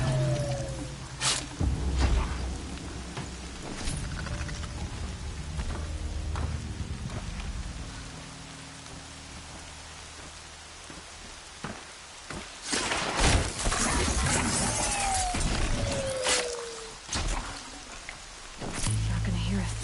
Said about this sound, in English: Not gonna hear a thing over this storm.